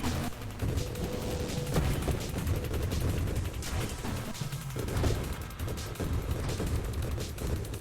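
Dense, unbroken weapon fire and grenade blasts from the space shooter game Nova Drift, loud and continuous for the whole stretch.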